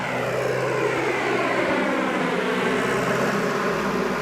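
A tractor engine drones steadily and loudly, holding a constant low hum with no breaks and no talk.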